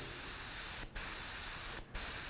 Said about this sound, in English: And then you spray candy on top.